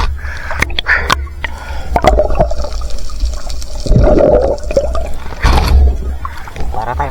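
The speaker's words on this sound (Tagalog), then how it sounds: "Grabe pagkalakas sa agos" A strong, shallow water current rushes loudly and close by, a turbulent gushing with surging bursts throughout.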